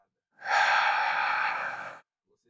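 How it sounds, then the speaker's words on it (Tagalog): A single slow, breathy exhale of about a second and a half, during a stretching exercise for pain behind the eyes, rises quickly and then fades out into near silence. "ilagay ang mga kamay sa dibdib at dahan-dahang ilabas ang hangin"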